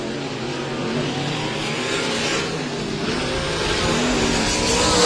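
Sprint cars race on a Texas dirt speedway, a continuous loud roar of several engines running together near the closing laps, steady and building slightly toward the end.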